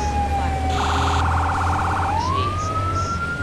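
Fire truck siren in the video game Firefighting Simulator, a steady electronic wail that rises and falls, with a brief rapid yelp burst in the middle, continuous and fairly loud over engine hum.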